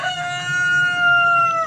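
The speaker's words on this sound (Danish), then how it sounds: "Der var den igen, hanen" A rooster crows once in a long, steady, fairly loud call near a forest setting, clear and without talk over it.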